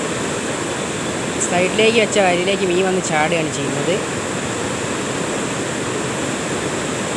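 Water rushes steadily through the opened shutter of a dam on the Oorkadavu river, a constant loud broadband roar that lasts throughout, with someone speaking over it partway through.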